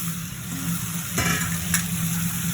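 Marinated chicken sizzles steadily in a hot pan as it is stirred, with a constant frying hiss, a brief scrape partway through and a low background hum.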